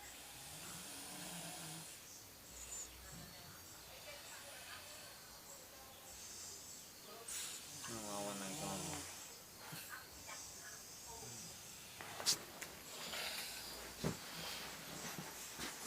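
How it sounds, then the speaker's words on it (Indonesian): A person snores in a quiet room, a raspy rattling inhale in the middle followed by softer hissing breaths and a few sharp snorts, with faint voices and background hiss. "Aku nganti ngorok ngene."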